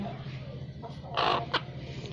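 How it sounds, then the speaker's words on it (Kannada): A red native country hen clucks in a short burst, fairly close, over a steady low hum, with one brief extra cluck just after. "ಪ್ಯೂರ್ ನಾಟಿ ಕೋಳಿ."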